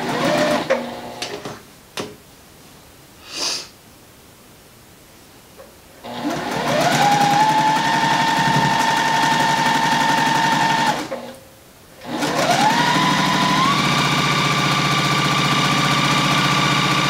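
A sewing machine stitches fabric strips together for a half log cabin quilt block, running in two long steady whirring bursts after a few short taps and a pause, loud and close with no talking.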